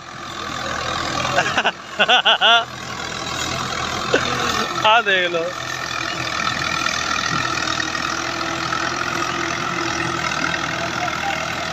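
A Fiat 85 horsepower tractor engine idles with a continuous low rumble nearby, while someone speaks in short phrases over it.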